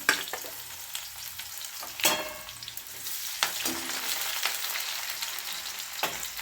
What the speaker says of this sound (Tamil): போட்டு அந்த வெங்காயத்தையும் நம்ம அதை கூட சேர்த்துக்கிடுவோம்